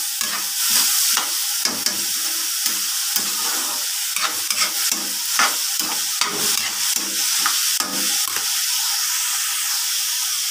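String beans are stirred in a hot pan: a spatula scrapes and clatters in quick repeated strokes over a continuous loud sizzle and hiss, close and busy throughout with no voices.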